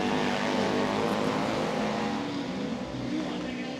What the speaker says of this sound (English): The sound of that big twin